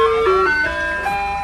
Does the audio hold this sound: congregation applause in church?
no